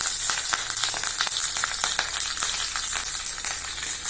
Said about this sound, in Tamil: ஆயில் ஊற்றிருக்கேங்க. கடுகு போட்டுக்கலாம், தாளிச்சிடலாம்.